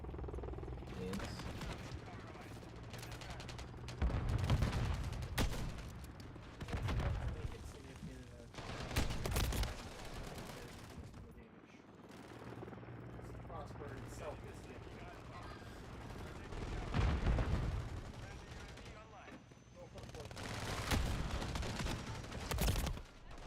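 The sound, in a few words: grenade explosions and gunfire in a Call of Duty video game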